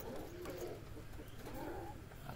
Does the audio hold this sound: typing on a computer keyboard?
no